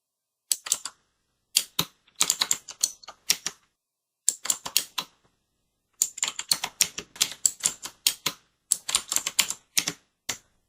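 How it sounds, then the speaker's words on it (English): Someone types on a computer keyboard close up, tapping keys in quick bursts separated by short pauses, with crisp clicking strokes and no talking. "Now you type code dot and enter."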